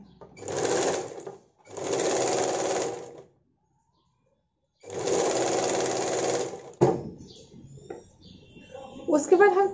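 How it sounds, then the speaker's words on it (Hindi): An electric sewing machine stitches a sleeveless blouse in three loud sustained bursts with a pause between them, followed by softer handling clatter at the end. "फिर हम यहां से देखिए हाफ इंच से ज्यादा लेकर सिलाई करना है।"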